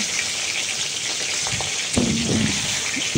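Pointed gourd (potol) frying in a home kitchen pan, a steady close sizzle with a few soft stirring scrapes and a brief louder crackle near the end, no voices.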